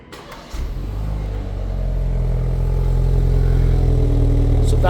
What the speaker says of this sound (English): So that is the remote engine start, cold start sound.